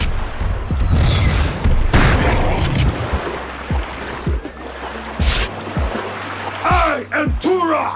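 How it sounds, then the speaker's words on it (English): Shotgun blasts in Turok 2, several heavy booming shots spaced irregularly over a rumbling game soundscape, with a voice speaking in places. "Shotgun."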